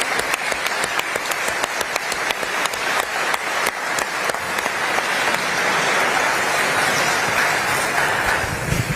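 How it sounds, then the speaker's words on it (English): Applause from the audience at an honorary degree ceremony at the University of Naples, starting as separate sharp claps and swelling into a dense, loud, continuous roar of clapping. "So please give a clap to these people"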